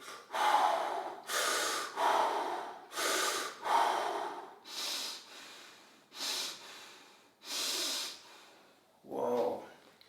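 Deep, forceful breathing while holding a squat, a run of loud rhythmic inhales and exhales heard close, ending with a sharp gasp-like breath.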